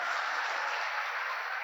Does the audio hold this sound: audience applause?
yes